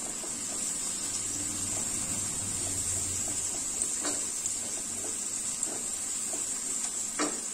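Brinjal curry seasoned with turmeric and chili powder is stirred in a hot pan. There is a steady, even sizzle with a few soft spoon scrapes and no talking.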